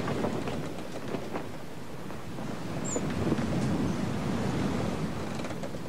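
Open-sea waves rolling and washing steadily, a broad continuous surf-like roar with no distinct breaks, moderately loud and alone with no voices.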